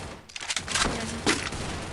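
Rapid bursts of gunfire in the mobile battle game Free Fire, a dense fusillade of loud crackling shots that keeps going for two seconds.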